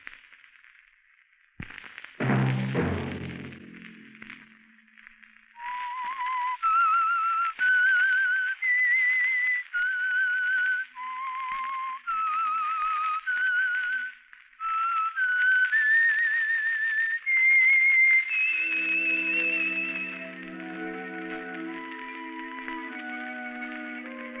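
A solo whistled signal tune opening the Signal Oil radio program rings out in clear, sustained notes with echo, running for several phrases before music swells in underneath.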